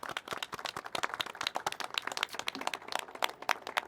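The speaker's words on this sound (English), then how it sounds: "we'd like to give you a round of applause for the folks that are helping throughout the week" A round of applause at a press event in Louisville, a small group clapping in distinct, uneven sharp claps that hold a fairly even pace and stay moderately faint.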